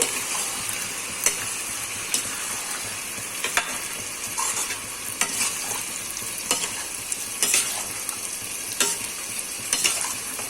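Garam masala gets stirred into Tamil Nadu style biryani in a pot: a constant loud sizzle with regular scraping strokes of a spoon against the metal every second or so, and no voices.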